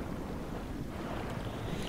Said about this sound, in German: Aber erstmal auftauchen.